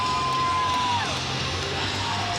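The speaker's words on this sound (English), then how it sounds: "Crowd's going wild over that." Arena crowd at a college gymnastics meet roaring and cheering after a floor routine, a steady loud wash of voices with a commentator talking over it.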